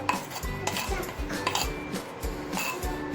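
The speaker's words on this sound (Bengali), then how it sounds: "চিকেনটা চলো থালাতে ঢেলে নিই।" Cooked handi chicken is tipped from the cooking pot onto a plate, with repeated clinks and scrapes of metal utensils against cookware and a soft, steady wet slide of food, close and moderately loud.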